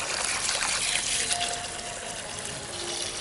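Water rushing and trickling while construction gravel is rinsed for bonsai soil, a dense, continuous splashing hiss that stays fairly steady and close for the whole stretch, with no talking.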